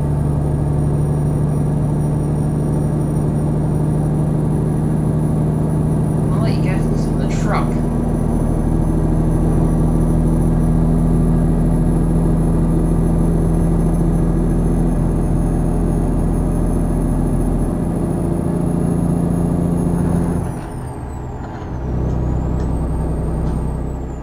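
A 2015 Freightliner Cascadia truck idles with a steady low diesel drone in American Truck Simulator, then gives a sharp hiss of air brake release near the end.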